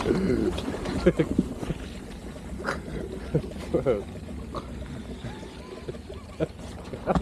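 Water spray splashing and sloshing near a boat around Santander, with irregular wet bursts and rushing noise, and a voice cursing over it.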